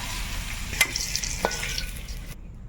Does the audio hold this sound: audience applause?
no